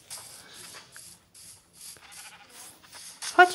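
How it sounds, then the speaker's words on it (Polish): Sheep bleating in a Minecraft-style video game, a series of short, faint, repeated bleats and game noises with brief gaps between them, ending in a sharper, louder sound. "Chodźcie, owce."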